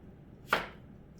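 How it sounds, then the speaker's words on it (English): A single crisp knife chop through a peeled onion on a board, one short sharp cut standing alone against near silence. "We have our onion peeled. We are going to cut it in half."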